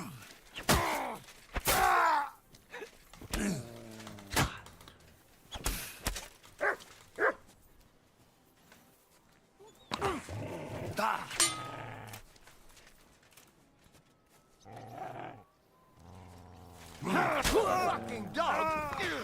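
A dog in Kingdom Come: Deliverance II barks and growls in sharp, repeated bursts amid a fight, with groans and shouting voices mixed in between the outbursts.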